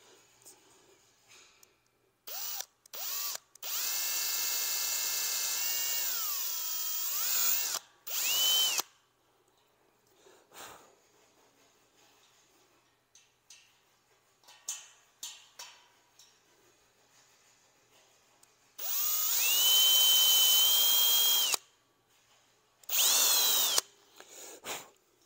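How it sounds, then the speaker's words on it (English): A power reamer whines in several long bursts as it opens powder-coated bolt holes in a T-51 fuselage frame, with short pauses and clatter between runs. "So we use this reamer tool."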